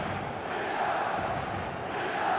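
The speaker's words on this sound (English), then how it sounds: "The stadium is full of noise and energy." Stadium crowd in the eFootball soccer video game, a steady murmur and roar of a full stand at moderate level, rising slightly toward the end, with no commentary on top.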